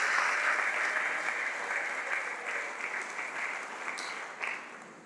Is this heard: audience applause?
yes